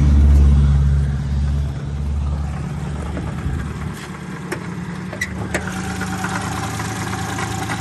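A 1997 Daewoo Tico with a 0.8-litre engine and manual gearbox idles nearby, a steady low rumble with a louder start and a few scattered clicks.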